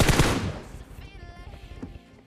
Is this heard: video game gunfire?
yes